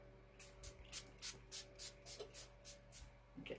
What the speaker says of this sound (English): I'm gonna spray some